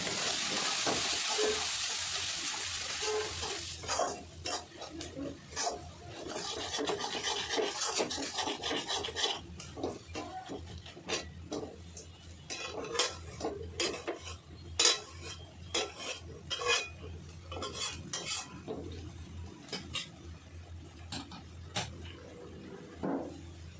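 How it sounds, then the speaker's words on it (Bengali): Spices with Kashmiri red chilli powder sauté in a pan, a brief loud sizzle at first, then repeated close scraping and clinking of a spatula stirring the mixture in an uneven rhythm, with no talking. "কাশ্মীরি লাল লঙ্কার গুঁড়ো সব মশলা দিয়ে দিয়েছি এবার ভালো করে কষে নেবো"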